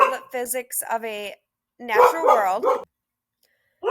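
A dog barks in the background while someone speaks steadily, the barks faint and mixed under her voice.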